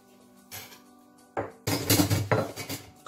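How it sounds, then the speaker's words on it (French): Metal pot and cutlery clink and scrape while oil and onion go into a casserole for a fennel and chicken tajine: a light tap, then louder clattering knocks and rattles close by. "je mets dans cette casserole de l'huile. Je mets l'oignon."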